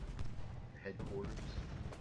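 Artillery and musket fire on a Civil War battlefield in Ultimate General: Gettysburg, a rumbling, crackling barrage of distant booms and volleys, continuous and moderately loud.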